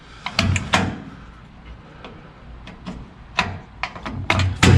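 A fuel cell cap on a Legacy 4x4 off-road build is pushed back on and closed, giving a run of sharp plastic clicks and knocks, close and dry, with quiet handling noise between them.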